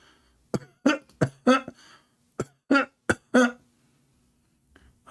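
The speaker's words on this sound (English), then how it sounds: "It's time to cough." A man coughs in a quick series of sharp, close bursts, some doubled, spaced over a few seconds before falling quiet.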